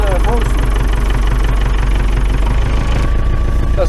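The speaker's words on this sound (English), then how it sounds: "let it warm up a little bit and we'll try to use the snowblower to remove the snow." Small snowblower engine idling steadily while warming up in snowy weather after a frozen throttle, a constant close rumble with a voice talking over it.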